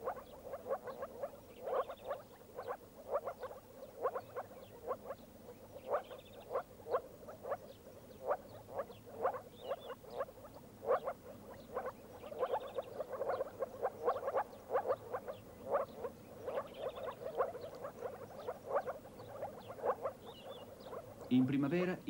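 Moor frogs calling in spring, a steady chorus of short, soft croaks repeating in a quick, uneven rhythm over a low wetland hum, at moderate distance and fairly faint throughout.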